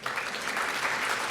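Brief, steady applause from a conference audience at a forum closing ceremony, a soft even wash of many hands clapping with no voices over it.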